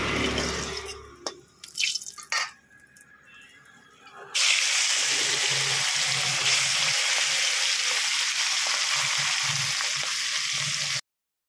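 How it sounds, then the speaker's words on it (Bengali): Fish fries in a wok in a home kitchen. Some clattering handling noises come first, then a loud, continuous sizzle holds steady and close until it cuts off abruptly. "এদিকে মাছটা ভাজা চলছে"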